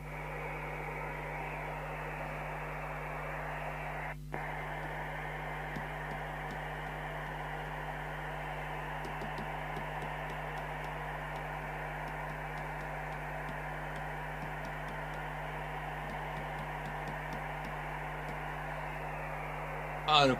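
CB radio hiss and hum from a Cybernet ZX1 UK CB27/81 4W 40-channel set on an aerial, steady faint static with a brief click partway and a short burst at the end.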